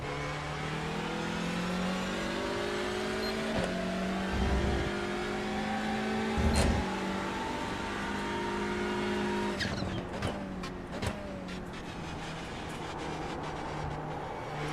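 Front-wheel-drive TCR touring race cars, production-based, roar past at Daytona with sustained revving engines, gear changes and occasional tire squeal, loud and continuous over about fifteen seconds with a sharper burst of passing cars near the end.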